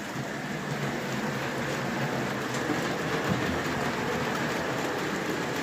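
Model locomotive running over track points, giving a steady close whirring rumble with faint rail clatter, continuous and even throughout.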